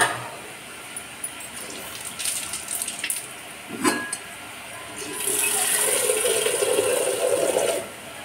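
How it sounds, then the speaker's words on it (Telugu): After some clatter and rattling, water pours steadily into a pan of potato curry for a few seconds, a bright rushing splash that then stops. "దీంట్లో వాటర్ పోసుకుందాం అండి"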